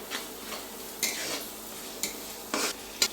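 Cumin and coriander paste being stirred into frying chicken in a pan, with a low sizzle and several distinct scraping strokes of a utensil at irregular intervals.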